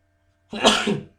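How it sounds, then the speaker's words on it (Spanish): One sharp sneeze from a person lecturing while facing the sun, close and loud, a quick burst with a short trailing tail and no talk around it. "Como tengo el sol al frente, me hace estornudar."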